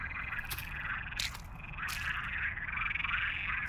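Frogs croak steadily in a video game forest beside a lake, a dense chorus of overlapping calls with a few louder bursts, continuous and fairly close, with no talking.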